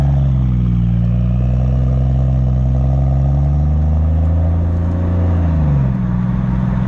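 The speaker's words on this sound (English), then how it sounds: "Not your average Rolls-Royce Wraith sound." A Mansory-tuned Rolls-Royce Wraith Black Badge coupé idles close by with a deep, loud exhaust rumble, its pitch rising briefly as the engine is revved before settling back to a steady burble.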